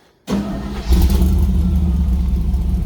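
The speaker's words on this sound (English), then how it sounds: "Go ahead, John. Hit the key." Engine of a 1964 Chevrolet Suburban cranks briefly, then catches and settles into a loud, steady running rumble close by, with no talk over it.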